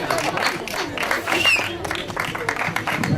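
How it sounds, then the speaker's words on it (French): Crowd at the La Forestière 2011 running race clapping steadily for the runners, a dense outdoor patter of many hands that carries on for the whole stretch, with voices mixed in. "On applaudit très fort."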